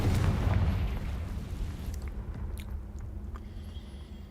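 A Confringo fire spell bursts in Hogwarts Legacy, a low rumbling blast with a crackling tail that fades over several seconds, heard alone at moderate level.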